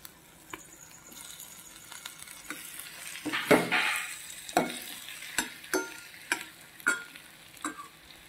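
Fish hitting hot oil in a frying pan after salt has gone in, a steady sizzle with a surge as the pieces drop, then repeated sharp taps and scrapes of a utensil stirring against the pan.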